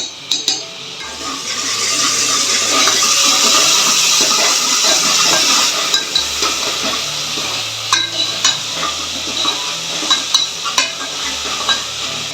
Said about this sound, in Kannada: ಇದನ್ನ ಹಸಿ ವಾಸನೆ ಹೋಗುವಂಗೆ ಹುರ್ಕೋಬೇಕು ಎಣ್ಣೆ ಒಳಗೆ